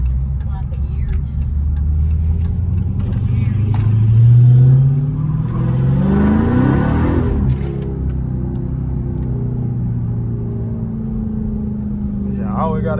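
A 2023 Dodge Charger Hellcat with a mid muffler delete exhaust idles with a deep rumble, swells through a loud rev and settles back into a steady burbling idle, close by.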